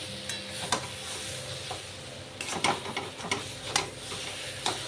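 A spatula scrapes and stirs taro leaves (kochu shak) cooked with a hilsa fish head in a pan as the liquid dries off, with irregular scraping strokes over a steady, soft frying sizzle.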